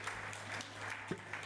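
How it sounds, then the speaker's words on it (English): A church congregation claps faintly and steadily, the applause low and distant throughout, with one brief vocal sound rising over it near the end. "Give yourselves a big round of applause."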